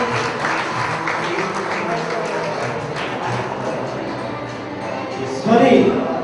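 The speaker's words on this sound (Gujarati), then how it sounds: "આપણે જોરદાર તાળીઓના ગણપતિ દાદાના સન્માનને વધાવી લઈએ." A crowd gives a sustained round of clapping at a ceremony honouring Ganpati Dada, a dense steady patter of many hands with a brief louder swell near the end.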